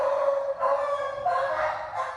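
A dog yelps and cries in short, pained bursts inside a building elevator while a man strikes it, the high whimpering fairly loud and close, with no talking.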